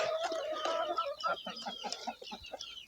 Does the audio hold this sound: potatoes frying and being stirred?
no